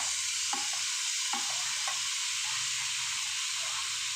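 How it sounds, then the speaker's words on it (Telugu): Tomato frying with ginger paste in a pan gives a steady, close sizzling hiss, with a few soft stirring knocks near the start. "టమాటా బాగా వేగేంత వరకు వేయించుకోవాలండి."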